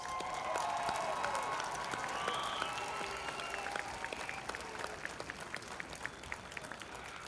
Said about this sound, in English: Give one round of applause for all of our graduates.